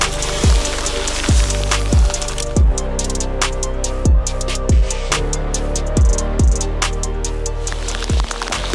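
Steady rain falling on a surface outdoors during a bass fishing competition, with repeated heavy drops or drips landing about once a second in a loose, regular rhythm.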